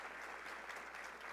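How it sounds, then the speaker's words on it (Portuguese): Brief, steady applause from a group, a dense patter of clapping hands with no voices on top. "Uma salva de palmas para o Rogério, gente."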